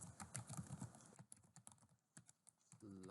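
Quick, light clicking of typing on a computer keyboard in a quiet room, with dense bursts of keystrokes at first that thin into scattered taps, then a brief tonal sound at the end.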